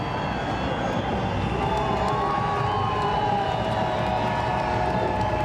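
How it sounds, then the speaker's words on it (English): A large seaside crowd of spectators roars continuously for cliff diver Andrea Barnaba at Red Bull Cliff Diving in Polignano a Mare, a steady distant wash of cheering with a faint whistle-like tone. "So listen to the crowd here for Andrea Barnaba."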